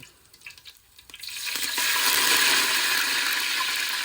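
Cinnamon, cloves, cumin and cardamom hit a hot pan for quail gravy. Quiet clinks open into a loud, steady sizzling hiss that swells and holds.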